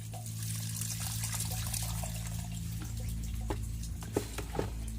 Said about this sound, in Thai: เทน้ำลงไปด้วย